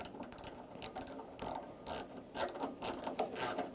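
A ratchet with a 10mm socket snugs up headlight bolts on a 1994-2001 Dodge Ram 1500, giving rapid bursts of clicking pawl strokes in an uneven rhythm, close and fairly loud, with no talking.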